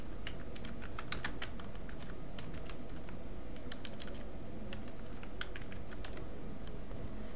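Keys clatter steadily on a computer keyboard as an activity type name is entered into quality-management software, the taps light and irregular over a low background hum, with no voices.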